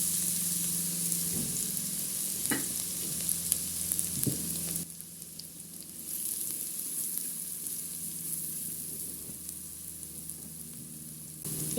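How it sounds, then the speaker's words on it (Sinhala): Garlic frying in hot coconut oil, a steady loud sizzle running throughout, with a few brief stirring knocks early on and a slight drop in intensity partway through. "දැන් අපිට පේනවා තෙල් එක හොඳට රත් වෙලා අපි එකතු කරගන්න යන්නේ සුදු ලුණු"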